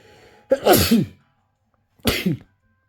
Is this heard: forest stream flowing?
no